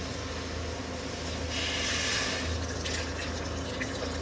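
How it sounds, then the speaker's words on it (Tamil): Water poured into a pot for crab soup, a steady splashing rush of liquid that swells briefly in the middle and continues throughout, close and fairly loud. "இந்த அளவுக்கு தண்ணி விட்டால்"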